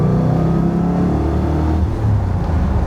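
A 1972 De Tomaso Pantera, estimated at 405 horsepower, pulls away under light throttle, its engine note rising smoothly in a low rumbling drone with a brief dip near the end, loud and close.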